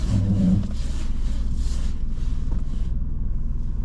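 A car moving off during a driving lesson gives a loud, steady low engine rumble with wind-like noise close to the microphone, easing slightly toward the end.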